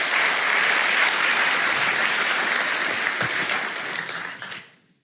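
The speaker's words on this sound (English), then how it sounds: "I would say round of applause to all of you" Leadership summit audience applauding, a dense, loud wash of many clapping hands that holds steady and then fades out over the last second.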